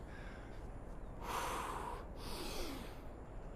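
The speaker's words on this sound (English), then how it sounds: "Let's add some breathing to it." Heavy exercise breathing during a workout, a couple of audible breaths out and in, soft and close with a faint background hum.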